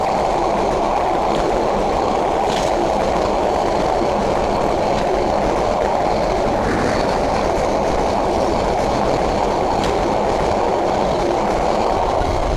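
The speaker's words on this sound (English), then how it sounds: "Also a train coming opposite side." An intercity train on a railway in Dhaka rumbles past, a loud, steady roar of wheels and carriages with faint clickety-clack that stays constant for over twelve seconds.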